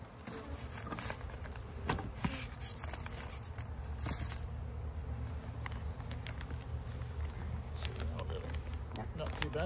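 Saskatraz honey bees buzz around an open hive, a faint, steady hum with occasional louder passes close by, plus light tapping and handling noises.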